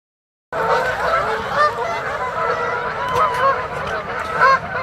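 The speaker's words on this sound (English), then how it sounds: "the geese are departing for the day" Several geese honk continuously nearby, a busy overlapping chorus of calls with a few louder honks standing out.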